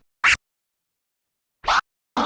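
Three short, loud DJ scratches cut from a record platter with the crossfader on a Hercules controller, separated by clean silence, two close together at the end.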